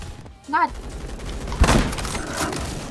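A sharp burst of gunfire from a gun in the online shooter Phantom Forces, loud and close after a brief warbling game tone, with a lingering noisy tail of combat sound.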